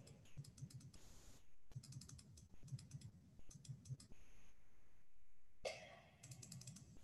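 Quick bursts of clicking on a computer keyboard, close and quiet, come in repeated runs with short pauses between them, along with faint coughs and throat clearing.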